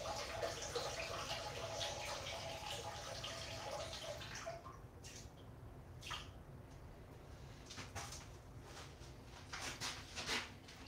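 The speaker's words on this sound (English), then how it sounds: "let me just let you hear the water seeking its level" Water sloshing inside a plastic hand sanitizer bottle, a soft continuous swishing that settles and turns to faint scattered drips and ticks, quiet and close.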